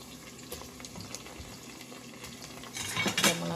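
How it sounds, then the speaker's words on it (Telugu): Drumstick pieces dropped into a pot of softened onions, green chillies and coriander for a Telugu toor dal drumstick rasam, giving a few soft clinks and clatters followed by a louder burst of stirring and pan noise near the end. "మునక్కాయలు వేసుకోవాలి."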